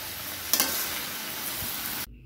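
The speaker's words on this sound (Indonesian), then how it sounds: "Kita aduk. Kita tunggu sampai cabenya betul-betul matang." Chilies frying in a pan with papaya for a spicy stir-fry, a dense steady sizzle with a couple of sharp stirring scrapes, close and loud, then cut off abruptly.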